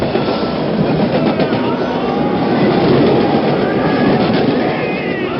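A steady train sound effect from a radio drama about a special train: continuous loud rolling rumble with faint rhythmic wheel clatter on the rails, unbroken and without speech.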